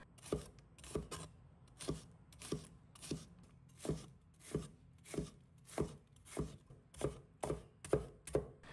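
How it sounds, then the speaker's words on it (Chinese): A knife slices bitter gourd strips diagonally into thin pieces on a board, sharp, even chops that come about twice a second in a steady rhythm, close up and fairly quiet. "接着将去囊的苦瓜条斜刀切成薄片"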